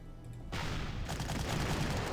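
Artillery fire striking a unit in the World War II strategy game Panzer Corps, a dense rumbling barrage of rapid blasts that bursts in after a quiet half second and keeps rolling steadily to the end, with no talking.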